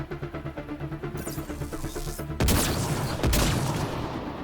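Gunfire from a sniper rifle in the shooter Mass Effect: Andromeda, with two heavy loud bursts in the second half over a pulsing engine-like game drone and music.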